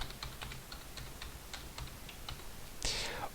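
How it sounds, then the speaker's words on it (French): Someone types text on a computer keyboard, producing soft, quick keystroke clicks in a steady run. A brief louder rustling noise comes near the end. "Donc, par exemple, on tape ceci est un texte."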